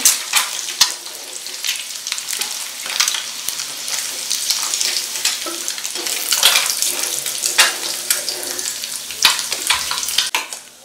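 Eggs frying in hot oil in a pan, a loud continuous sizzle with crackling pops and occasional stirring or turning sounds, no voices.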